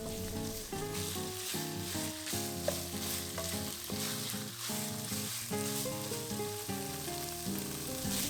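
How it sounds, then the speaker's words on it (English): Chicken pieces sizzle and crackle in a pot while being stirred with curry paste, with steady frying noise under prominent background music. "add the chicken pieces and stir them with the curry paste"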